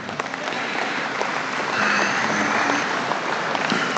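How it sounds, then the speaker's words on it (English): Steady applause from a crowd at a state fair beef cattle show, a dense wash of clapping hands that holds at an even level throughout. "Give them another big round of applause."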